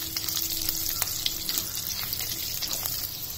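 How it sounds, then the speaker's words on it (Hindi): Green chilli and ginger sautéing in a pan for a Hyderabadi broccoli gravy, giving a steady close sizzle with small crackles and faint stirring throughout. "इसके साथ ही साथ हम डालेंगे इसमें ये हरी मिर्च और ये अदरक, इनको भी हम हल्का सा सौते करेंगे"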